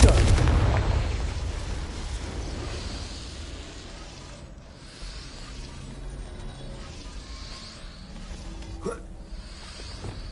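Explosive Confringo curse blast from a wizard video game, a loud booming burst right at the start that fades into a rumbling low tail, followed by quieter game ambience and a faint thud near the end.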